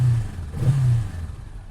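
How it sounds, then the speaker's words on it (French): A low Honda CL500 motorcycle engine idles, then briefly swells in a short rev before settling back to a steady rumble; no voices. "Je vais juste vous faire écouter le petit son du moteur."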